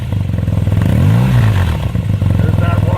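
A 2017 BMW R nineT Racer motorcycle's engine cranks and catches, settling into a loud, steady, close-up idle with a throaty pulsing rumble, while voices talk over it.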